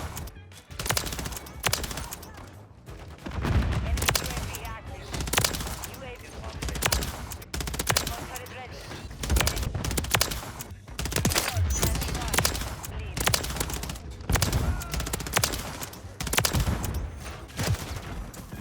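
Rapid automatic gunfire in a Call of Duty multiplayer match, dense overlapping bursts of shots that run almost continuously, with a player's voice talking over parts of it.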